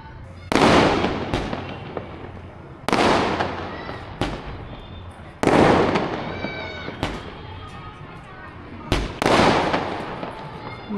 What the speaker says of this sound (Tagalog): Ang daming fireworks ng